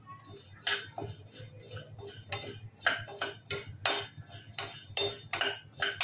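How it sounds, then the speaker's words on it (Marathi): Urad dal roasts dry in a pan for chakli bhajani, with a metal spoon clinking and scraping against the pan in quick irregular strokes over a soft low background hum. "आता आपण उडदाची डाळ घालून घेऊया"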